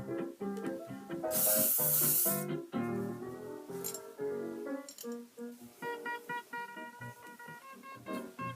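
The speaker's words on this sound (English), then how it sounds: "Tweak into shape and spritz with a little more hairspray." Hairspray spritzed onto hair in a vintage styling session, a single loud hissing burst of about a second heard over background music.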